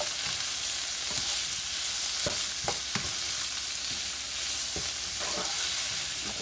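Green bell peppers sautéing over medium-high heat for a stir fry, a steady sizzle broken by several sharp spatula scrapes and taps against the pan.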